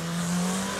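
A truck engine revs hard and holds high to make it smoke, a loud, sustained droning roar that stays fairly even throughout, close by with no voices.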